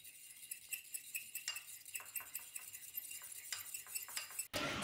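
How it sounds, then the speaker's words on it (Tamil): A spoon stirs red chilli sauce and mayonnaise together in a bowl, a run of small clinks and scrapes against the sides, close and quiet, with a short sharp knock at the end. "மயோனஸ், இது மூணையும் நல்லா மிக்ஸ் பண்ணிக்கலாம்."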